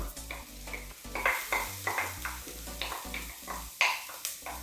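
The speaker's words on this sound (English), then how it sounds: "I'm going to add in the ginger and garlic." Ginger and garlic sizzle and fry with translucent onions in a pan, with steady stirring scrapes recurring in a loose rhythm, close and moderately loud with no talk.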